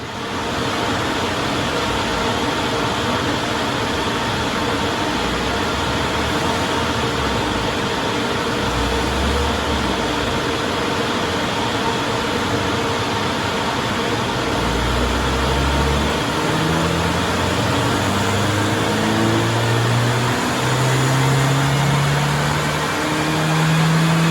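A 998 A-Plus engine with a stage 1 kit runs steadily on a rolling road dyno, a loud continuous drone with rising and falling tones as it works through the revs, no voices.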